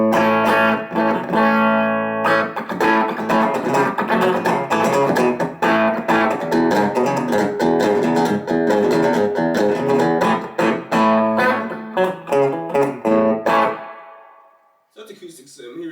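An electric guitar played through a Roland Street EX amplifier on its acoustic simulation setting rings out in steady strummed chords and picked notes, loud and continuous for most of the stretch before fading to near silence at the end.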